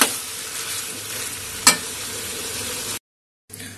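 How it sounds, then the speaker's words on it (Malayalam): Kerala-style boti fry being stirred in a pan, a continuous close sizzle with one sharp utensil scrape in the middle, then a brief silence before the frying noise resumes. "ഇളക്കുന്നത് നമ്മൾ നിർത്തരുത്, ഇളക്കി കൊടുത്തോണ്ടേ ഇരിക്കണം, അല്ലെങ്കിൽ അടിയിൽ പിടിച്ചു പോകും"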